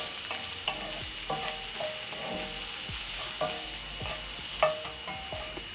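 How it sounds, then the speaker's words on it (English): White onion for a meat pie filling sautéing in a pan, with steady close sizzling broken by repeated scraping stirs of a utensil against the pan; no talking. "Then I'm going to stir in and saute for about a minute until soft."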